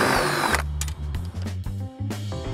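Power drill with a 5/16 bit enlarging a hole in a metal bar during an RXV hard door enclosure install; a close, steady whine that dips and restarts in short bursts, with no talking.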